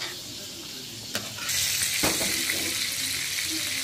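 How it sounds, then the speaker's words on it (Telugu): A pot of tamarind broth with mutton bones, coriander and garam masala bubbles on the stove, a close, even hiss and seethe with a couple of brief knocks near the start. "పులుసు మరగబెట్టుకోవాలి"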